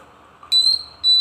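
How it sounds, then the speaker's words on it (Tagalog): A long-range infrared security alarm, version 1, sounds two loud, piercing high-pitched beeps about half a second apart over a faint background hum. "ang long range infrared security alarm"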